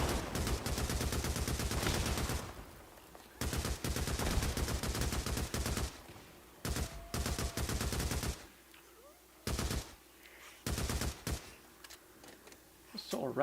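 Rapid automatic gunfire in a video game horde shooter against freakers, with dense bursts of shots and short pauses between volleys, loud and close, and a voice talking faintly in the gaps.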